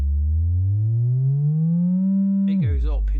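A pure sine tone from a Line 6 Helix Stadium XL glides smoothly upward across two octaves over G, loud and steady, then drops away abruptly into a brief burst of garbled, warbling effect sound.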